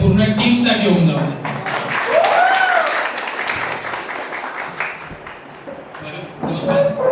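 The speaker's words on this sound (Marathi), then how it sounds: "आणि दुसऱ्या टाळ्या आपल्या पूर्ण टीम साठी होऊन जाऊ दे।" Applause from guests at a 60th birthday celebration for Sushma, broad sustained clapping under and between talk, with a short pinging tone rising midway before the clapping tapers.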